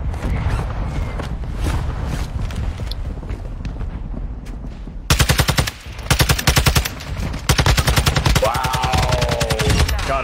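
Gunfire in the video game Call of Duty Warzone 2.0: scattered shots at first, then loud, rapid automatic bursts in long rattling strings, close and dominant.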